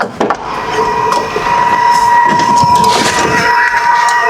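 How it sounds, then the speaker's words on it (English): A steady electronic key-in-ignition warning buzzer in a 1972 AMC AMX drones under loud rattling, clattering mechanical noise that continues throughout. "that's the key in ignition buzzer"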